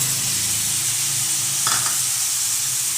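Chopped chow chow sautés in a hot pan with a steady, close sizzling hiss that runs throughout, broken by one brief stirring scrape midway.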